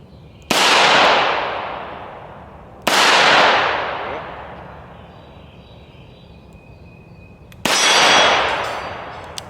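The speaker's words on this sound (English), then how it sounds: "I'm gonna shoot at this smaller target here." A Taurus 605 T.O.R.O. revolver fires three loud double-action shots at an outdoor range, each a sharp crack with a long ringing decay, spaced a few seconds apart.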